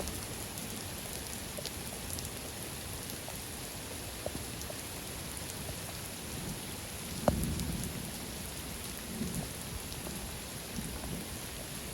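Steady rain falls on a farm field under a dense rosewood tree in a dense, even hiss, with a single low rumble of thunder near the middle.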